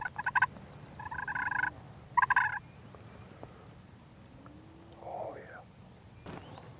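Wild turkey gobbler gobbling outdoors, three short rattling gobbles in quick succession over the first few seconds at moderate distance, followed by quieter rustling and faint whispered talk.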